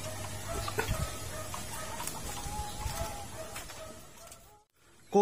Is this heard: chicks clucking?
yes